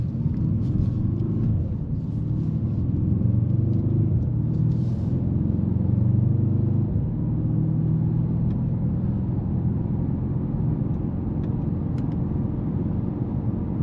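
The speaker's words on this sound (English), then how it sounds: "here we have the true V8 hand-built engine by Mercedes-AMG" Hand-built V8 of a Mercedes-AMG E63 S idling with a steady, deep low rumble that holds for the whole stretch, close and fairly loud, with a few faint high ticks on top and no talk.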